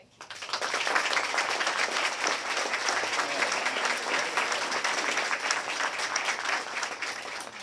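An audience at the 2017 mayoral debate breaks into sustained applause and cheering as Mayor Jean Stothert and Senator Heath Mello are introduced, dense clapping rising quickly and holding steady throughout.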